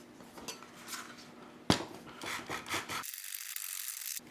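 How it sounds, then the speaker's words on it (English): A blade scrapes and cuts a plastic part from a Spirit Halloween Neutrona Wand in short, close rasping and clicking strokes, with one sharp snap partway through, then faint handling noise. "I'm just going to slice it off"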